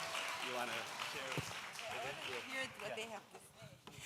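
Applause at a kindergarten parenting and couples seminar, a steady wash of clapping for several seconds with children's and adults' voices chattering over it.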